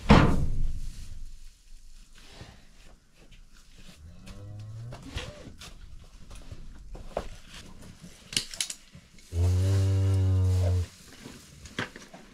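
A cow in a barn during winter calving on a ranch lets out one long, loud, close moo near the end. Before it come a heavy thunk at the start and scattered quieter rustling and movement.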